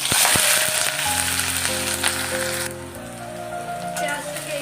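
Chopped onion drops into hot oil with bay leaves, garam masala and cumin, crackling loudly and steadily like heavy rain, with a low humming tone underneath throughout.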